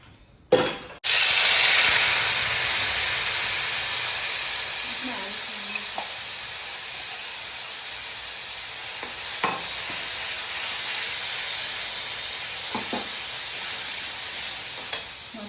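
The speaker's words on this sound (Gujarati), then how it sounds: "હવે તેલ નાખીને વઘાર મૂકીશ." Hot oil for a kadhi tempering hisses and sizzles loudly and steadily after a sharp initial burst, with occasional stirring clicks breaking through the continuous frying noise.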